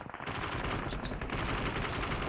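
Rapid automatic machine gun fire in the BGMI battle royale video game, a dense, unbroken rattle of shots that starts abruptly and continues steadily at high intensity, with no talking.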